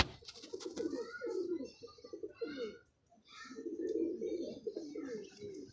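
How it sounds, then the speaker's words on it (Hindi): Soft, throaty pigeon cooing in repeated low phrases, close by, with a brief pause midway before the cooing resumes. "ये कबूतर है"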